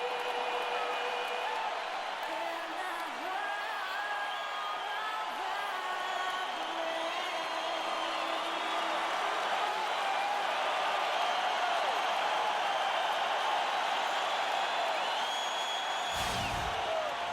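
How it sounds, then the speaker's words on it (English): Arena crowd at the American Airlines Arena in the NBA 2K16 video game, Philadelphia 76ers versus Miami Heat playoff game: a steady, loud wash of cheering and whooping with scattered yells throughout, briefly cut by a sharper burst near the end. "We are here live at the American Airlines Arena with the crowd going crazy."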